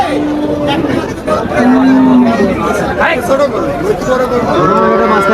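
Cattle low repeatedly at a busy cattle market in Tepakhola, Faridpur, several loud nearby moos rising over a constant murmur of crowd chatter and people talking.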